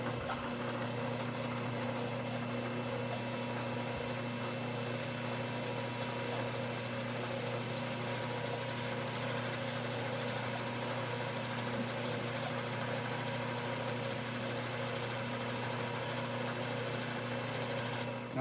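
A machine cutting chips from a rubber hockey puck in a workshop gives a steady, even, droning hum with constant tonal whine, running unchanged throughout with no talk.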